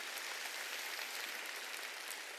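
Congregation clapping during a Sunday church service, a dense, steady wash of many hands at moderate level with no talking over it.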